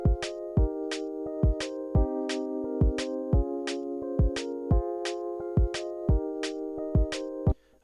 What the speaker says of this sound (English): Now we've got all of our kicks and snares in place